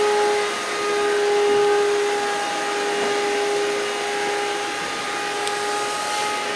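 A vacuum cleaner runs steadily through the whole stretch at a model railroad club's HO layout room, a loud continuous whine with stable tones and no talk over it.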